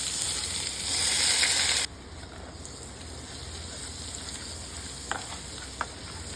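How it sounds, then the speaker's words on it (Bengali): Hot mustard oil poured over ground cumin, turmeric, tandoori masala, ginger-garlic paste and salt gives a loud burst of sizzling for about two seconds, then settles into a softer steady crackle with a couple of small pops. "সর্ষের তেল গরম করে দেবো।"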